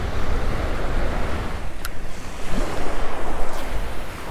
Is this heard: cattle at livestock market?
no